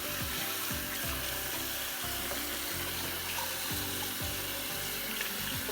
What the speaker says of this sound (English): So what I'm going to be doing is just run the cold water over it.